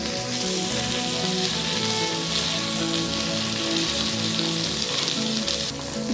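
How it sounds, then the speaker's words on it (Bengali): Okra fries in hot mustard oil with a dense, steady sizzle and crackle, close and continuous throughout with no talk. "তেলটা গরম হয়ে গেছে, ঢেঁড়সগুলো প্রথমে দিয়ে দিলাম।"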